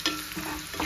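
Whole spices and curry leaves tempering in hot oil in a pan for rasam, a close, steady sizzle and crackle with a brief stirring scrape, no voices.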